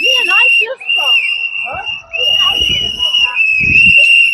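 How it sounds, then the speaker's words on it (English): Shrill whistles blow almost without pause at a street protest, piercing and close, while raised voices and crowd noise mix underneath. "Here comes the whistles."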